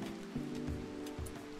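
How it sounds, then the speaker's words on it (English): Steady rain falls in the video game RimWorld during a fire, a continuous soft patter that stays even and fairly faint throughout, with no talk over it. "at least it's raining"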